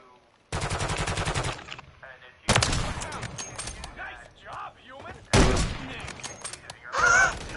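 Gunfire bursts in Call of Duty: Modern Warfare 3 multiplayer, several loud rapid volleys separated by brief pauses, with game sounds and a voice mixed in between.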